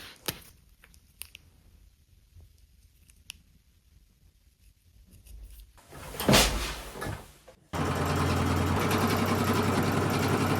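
A sewing machine stitches the sides of side-tie pants together, starting after some quiet handling clicks and then running loud and steady, close up, for several seconds without a break.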